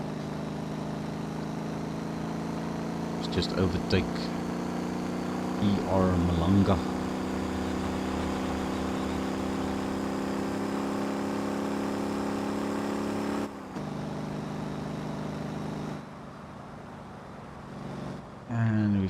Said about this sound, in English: this truck has got a nice sound to it with this engine